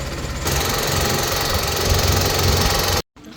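A boat engine on the Narmada river where it meets the Kaveri chugs loud and close in a rapid, steady knock, briefly cutting out near the end before resuming.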